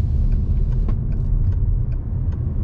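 A hybrid car taking a roundabout at speed, around 50 km/h, gives off a steady low road rumble and muffled cabin noise, with faint clicks over the constant drone.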